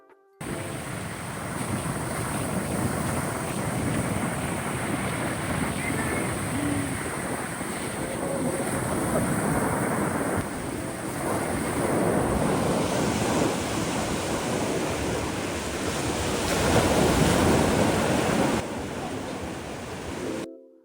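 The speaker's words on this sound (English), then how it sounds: "for those of you who would like to hear the ocean, here you go" Ocean waves at Myrtle Beach surge and wash continuously, loud and close, with gusty wind buffeting the microphone throughout.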